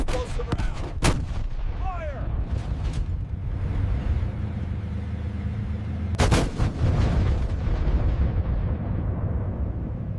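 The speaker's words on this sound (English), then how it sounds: "The T-90M's 2A 46mm main gun." A Russian T-90M main battle tank fires its 2A46 main gun, two heavy booming blasts about five seconds apart, each rolling into a long loud rumble with no speech.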